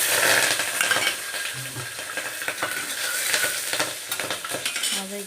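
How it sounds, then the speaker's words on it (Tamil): Mustard seeds, cumin and black pepper splutter and sizzle steadily in hot oil, with sharp popping crackles and a few clinks of a spoon against the pan, close and fairly loud throughout. "கடுகு, சீரகம், மிளகு போட்டு பொரியட்டும்."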